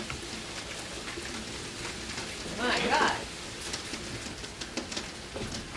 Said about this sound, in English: Oh my God, I gotta close the window. The rain is coming in.